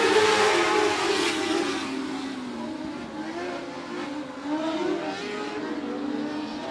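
Race cars at 105 Speedway roar off at the start of a race, engines droning and revving together in a loud, continuous pack sound that shifts in pitch as they accelerate.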